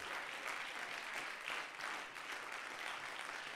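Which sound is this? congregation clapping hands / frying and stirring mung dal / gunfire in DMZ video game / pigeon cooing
congregation clapping hands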